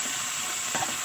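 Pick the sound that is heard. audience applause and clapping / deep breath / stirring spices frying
stirring spices frying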